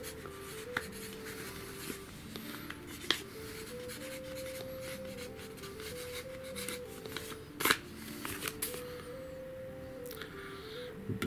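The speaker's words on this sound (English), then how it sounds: "let me show you here that it does in fact write." A handmade pencil scratching steadily across paper in short strokes, with soft tonal music playing underneath.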